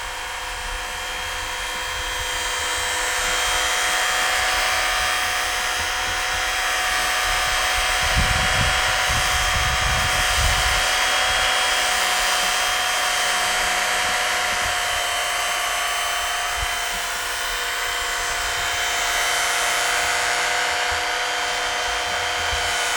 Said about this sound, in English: it's a lot easier to use the little belt sander than other ways of doing it.